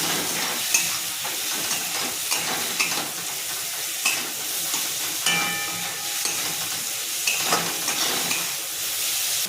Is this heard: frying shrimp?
yes